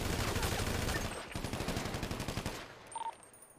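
Automatic gunfire in a police-versus-gang shooter game: a fast, dense burst of rapid shots lasting about two and a half seconds, then a few sparse trailing pops, at moderate volume with no talk.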